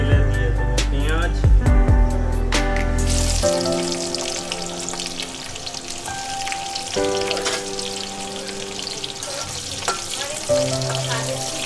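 Onions sizzle in hot oil in a kadai with whole cumin, dried chillies, cinnamon and cardamom for chicken karahi. A loud hiss bursts out as they drop in, then a steady crackle runs on with stirring and faint talk.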